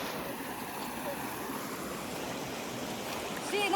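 Water from a stream flows at the source of a waterfall, a steady broadband rush that is fairly close and continuous, with brief faint voices at the end.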